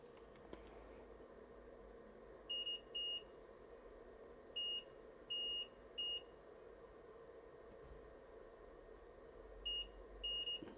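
A transistor tester stuck in self-test chirps faint, high electronic beeps in short paired bursts that repeat every couple of seconds over a low background hum, with no talk.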